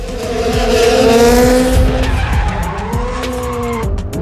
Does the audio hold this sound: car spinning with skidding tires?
yes